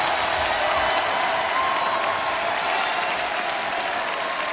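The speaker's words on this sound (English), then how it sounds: "Thousands of people here on their feet clapping in appreciation for these two athletes" A large wrestling crowd of thousands on their feet, applauding and cheering steadily; dense, continuous clapping fills the whole stretch with no break.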